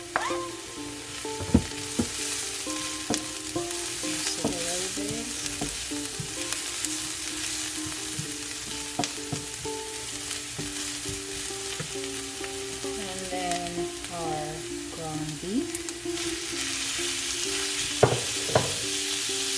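Ground meat with garlic and chopped onion sizzles steadily in a pan, with frequent scraping stirs and clicks of a utensil against the pan, close and moderately loud, no talking.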